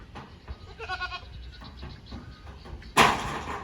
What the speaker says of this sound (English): Bad little goat.